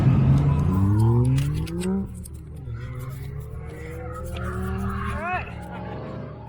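A BMW 335i E92 drifts at Queensland Raceway, its engine note climbing and falling through revs with a sharp rising whine near the end, heard from nearby under ongoing speech.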